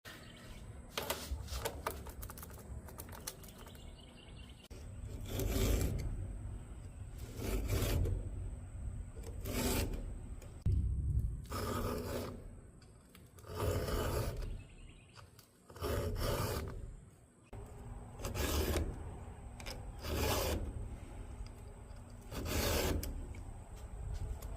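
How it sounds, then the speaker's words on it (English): Hand file sharpening the chain on a chainsaw outdoors, repeated rasping strokes in uneven bursts, each a few seconds long, fairly faint and close, with no one talking. "Sharpening it, it feels like I got a better cut with the file and everything."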